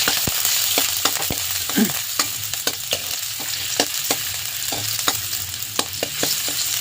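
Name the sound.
ginger frying in a pan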